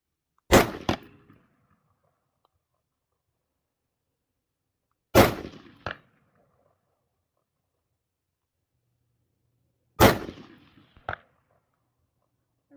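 Three rifle shots spaced a few seconds apart on an open range, each a sharp crack followed after a short delay by the faint metallic ping of a distant steel plate being struck, with near silence in between.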